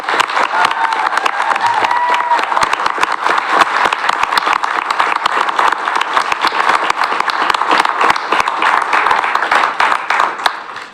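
An audience at a city council meeting applauds steadily for about ten seconds, dense close clapping with scattered cheers, fading at the end.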